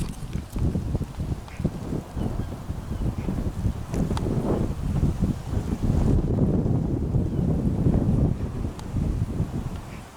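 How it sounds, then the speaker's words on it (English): Gusty wind buffets the microphone outdoors at a bonfire in rough, rumbling bursts, loud and close, with no voices. "Oh, it's too windy."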